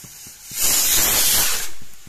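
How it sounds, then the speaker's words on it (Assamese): A pressure cooker on the stove, cooking chicken curry with kohlrabi, lets out a loud, steady burst of steam hiss lasting about a second, with quieter kitchen background before and after and no talking. "ইফালে কুকাৰটোৰো চিটি মাৰিছে"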